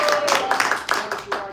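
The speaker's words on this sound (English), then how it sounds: "Give him a round of applause." A live-stream studio audience claps in short bursts of applause, with voices mixed in throughout.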